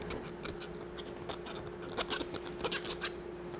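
A metal ferrule for an ice cream scoop is filed by hand in steady, rapid rasping strokes against a faint constant hum, close and moderately quiet, no talking.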